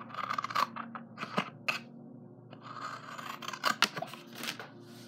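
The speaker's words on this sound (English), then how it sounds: "we will be needing to cut out a square. Just a simple square." Scissors snip and crunch through paper, cutting out a simple square for a handmade keychain, with irregular close cuts and brief pauses between strokes, no talking.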